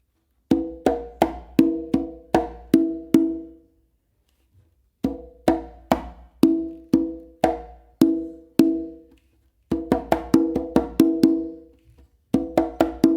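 Full tumbao on a single conga, a continuous run of slaps, bass strokes and ringing open tones in lively rhythmic phrases, with one short pause midway, played close with no talking.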